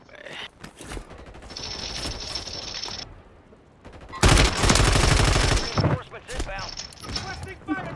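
Fast bursts of automatic gunfire crackle in Warzone 3, with several separate volleys coming from a mountain and a loud, close burst in the middle, and voices faintly present.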